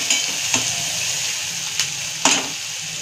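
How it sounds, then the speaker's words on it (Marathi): Finely chopped onions sizzle steadily in a pan for a Maharashtrian dried-fish dish, a loud continuous frying hiss broken by a few stirring scrapes and clinks close by. "दोन कांदे बारीक चिरलेले, कांदा चांगला भाजून द्यायचा गोल्डन ब्राउन कलरवर।"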